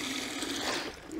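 Water from a rain barrel runs into a cooking pan in a vegetable garden, a close, steady pouring rush that shifts slightly in pitch as the pan fills, then eases off.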